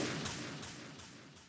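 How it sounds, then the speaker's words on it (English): Several sharp gunshots crack in quick succession in the video game Metal Gear Solid 2: Sons of Liberty, about four evenly spaced bursts, with a thin high electronic tone running underneath. "Gunshots."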